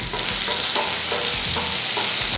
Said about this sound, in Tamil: பெரிய வெங்காயம், அதை இதில் சேர்த்துக்கலாம்.